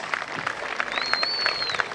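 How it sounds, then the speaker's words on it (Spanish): An audience at an evening carnival show in an amphitheatre applauds, a busy patter of many hands clapping at moderate distance, with a faint high whistle drawn out briefly partway through. "los aplausos, más fuerte los aplausos."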